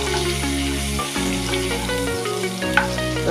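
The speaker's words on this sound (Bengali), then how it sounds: "কর্ন ফ্রাইড রাইসে যে চিকেনটা দেবো সেই চিকেনটা একটুখানি ফ্রাই করে নিচ্ছি" Chicken seasoned with black pepper and salt fries in a pan for corn fried rice, giving a steady, close sizzle that runs unbroken throughout over a faint tonal background.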